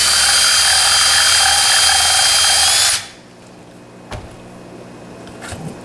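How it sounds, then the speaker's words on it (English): A handheld power drill bores a small hole for a DIY CO2 gel delivery airline fitting. It whines loud and steady for about three seconds, then cuts off, leaving quiet room tone and a couple of faint handling clicks. "try to drill it in there without making a mess"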